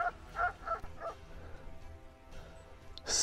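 A shepherd dog barks in short bursts several times at moderate distance in the countryside, followed by quieter background noise and a faint rustle near the end.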